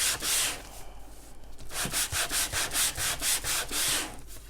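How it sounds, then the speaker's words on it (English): A sanding block rubs around the edge of a sheet of paper in a run of quick, rhythmic back-and-forth strokes, each a soft hissing scrape, close and fairly quiet after a couple of slower initial passes. "So I'm just going to use my sanding block"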